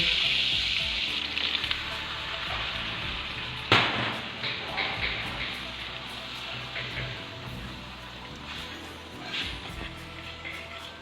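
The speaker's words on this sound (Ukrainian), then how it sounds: "розтоплюю решту вершкового масла і пастирую борошно" Flour sautés in melted butter in a pan, making a steady close sizzle with a crackling hiss and one sharp scrape or clatter partway through, the frying fading slightly over time.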